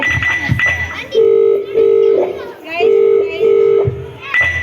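An outgoing phone call rings unanswered: a steady ringback tone sounds in repeated bursts separated by short pauses, over faint background noise.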